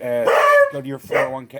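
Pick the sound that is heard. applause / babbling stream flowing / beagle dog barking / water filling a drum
beagle dog barking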